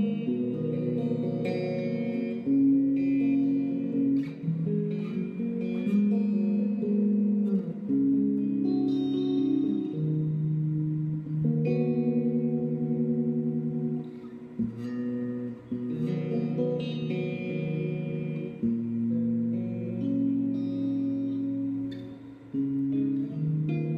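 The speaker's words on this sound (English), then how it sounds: "If you put it to the middle position without the coil tap, it sounds like this" A Mayones Duvell 6 Elite electric guitar played on its middle pickup position with no coil tap, with sustained chords and riffs ringing out continuously, fairly loud and alone throughout.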